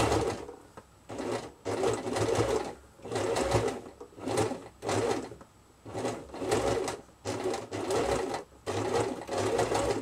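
A sewing machine stitches fabric doll accessories in repeated close bursts of rapid needle clatter, with short pauses between runs while the fabric is turned. No one speaks.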